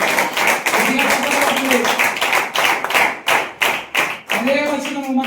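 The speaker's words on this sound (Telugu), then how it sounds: "గట్టిగా చప్పట్లు కొట్టండి" A church congregation at a Christmas service claps loudly in several strong bursts, with voices calling out between and under the applause.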